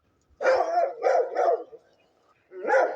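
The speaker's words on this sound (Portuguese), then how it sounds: "Olha que lindinho esse cachorrinho." A small dog yaps in a quick burst of three sharp, close barks, then pauses before one more bark against an otherwise quiet background.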